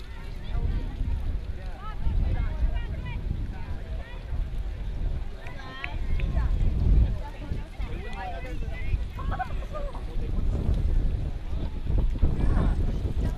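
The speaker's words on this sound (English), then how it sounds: "Seems like that wind isn't going to help either team right now." Wind blowing across the field at a girls' high school soccer game, a steady low rumbling buffet with swelling gusts, while voices carry faintly underneath.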